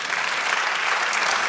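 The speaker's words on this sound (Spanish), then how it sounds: "Da el aplauso al Señor" A church congregation claps loudly and continuously during a sermon, dense many-handed applause that carries on evenly from start to finish with no talk over it.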